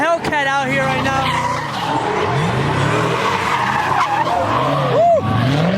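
A Dodge Hellcat skids and squeals its tires at a street takeover, with a loud, continuous roar and screech, rising and falling whines, and crowd voices shouting nearby throughout.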